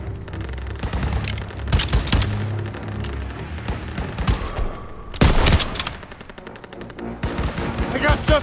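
Sustained automatic gunfire and bursts of shots from a war video game battle around a church courtyard with an anti-aircraft gun, loud and dense throughout with a heavier burst midway and a voice shouting briefly among the shots.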